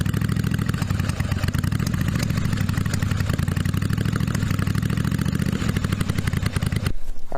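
A roughly 40-year-old V-twin motorcycle engine, running too lean with suspected exhaust leaks, idles loud and close with a steady lumpy clatter and uneven firing pulses, then cuts out abruptly near the end.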